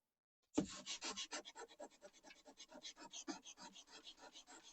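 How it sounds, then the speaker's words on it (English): Rapid rhythmic sanding strokes scrape back and forth on a Moore & Wright engineer's square, a heavy metal square, close and steady, starting abruptly after a moment of silence. "When you start sanding."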